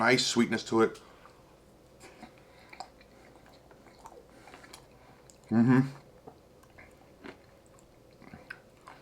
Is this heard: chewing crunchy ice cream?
yes